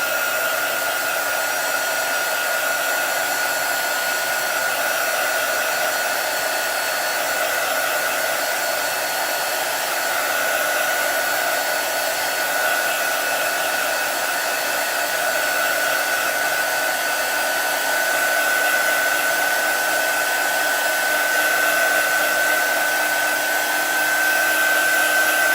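Hair dryer blowing on chalk paste on a craft project, a loud, steady whirring roar with a constant high whine that runs unbroken for about twenty-five seconds, close to the listener, with no voices.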